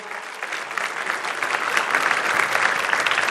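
Crowd applause at a 2024 trade show, dense clapping from a sizable audience that swells gradually and holds strong and steady, with no voices over it.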